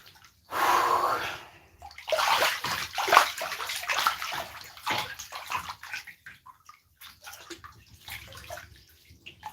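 Bath water sloshing and splashing in a tub during hair and face washing, close and fairly loud in irregular bursts, fading to softer drips and small swishes toward the end.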